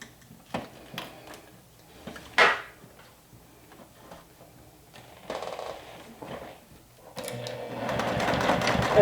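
Semi-industrial sewing machine backstitching webbing for a crossbody bag handle: short stitching bursts with clicks and handling between them, then a longer sustained run of rapid stitching, close and clear.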